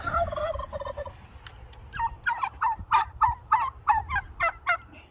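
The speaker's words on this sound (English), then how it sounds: "And then we have turkeys." Several turkeys gobble in rapid, rattling bursts nearby, one call following another in a lively chorus.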